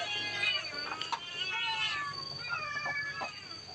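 Cat meows repeatedly outdoors at a temple home in Lampang, Thailand, with several rising tonal calls over about four seconds amid background chatter and someone speaking nearby.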